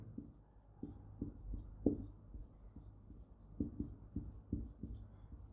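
Chalk or pen writes during a physics lesson on the electric field of a point charge, a series of quiet, close scratchy strokes and taps in an irregular rhythm against a soft background hum.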